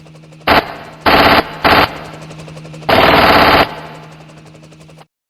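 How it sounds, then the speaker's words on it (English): An M60 machine gun in Vietnam War footage fires four loud bursts, three short ones close together and then a longer sustained one, over a steady low hum. "Upper left-hand corner, you'll see the M60 machine gun"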